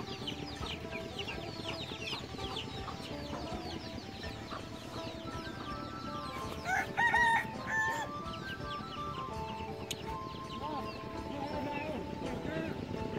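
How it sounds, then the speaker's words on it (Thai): Domestic farm chickens in a rural Lao village cluck steadily throughout, with a louder rooster crow rising near the middle, while people talk nearby over the birds. "มันคือไก่พันธุ์มันคือไก่นะไก่เลี้ยง"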